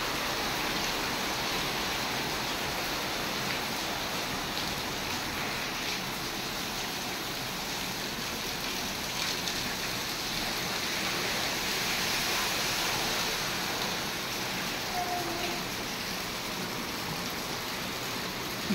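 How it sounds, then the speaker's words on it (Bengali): Heavy rain pours steadily and loudly for the whole stretch, a dense unbroken hiss of water striking surfaces with no pauses, close and continuous. "দেখুন কি জোর বৃষ্টি পড়ছে।"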